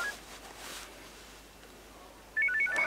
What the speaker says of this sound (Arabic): هرد على التليفون ده بس اقول لك